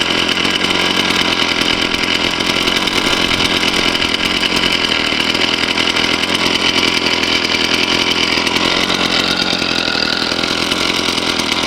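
A gas-powered T-post driver's small engine idles steadily and loudly for the whole stretch, a constant buzzing drone with no voices over it.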